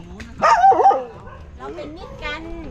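A dog on a mangrove-forest bridge in Bang Khun Thian, Bangkok, barks in a few quick, close yips near the start and again toward the end. A person speaks in between the barks.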